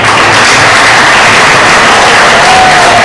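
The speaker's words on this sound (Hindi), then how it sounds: "जोरदार तालियों से स्वागत करिए" A crowd at a school award ceremony for top students claps loudly in a dense, unbroken wash of sound that fills the whole stretch.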